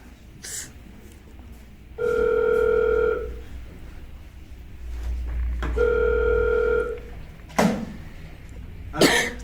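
Two long ringback tones sound through a phone line, evenly spaced, with faint background noise and a couple of soft clicks between them.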